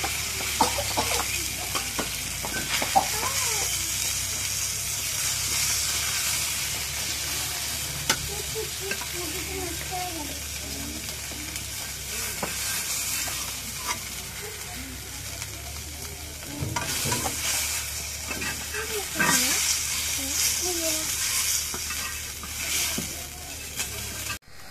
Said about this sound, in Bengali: মাছটা ভাজা হয়েছে, এখন মাছটা নামাই।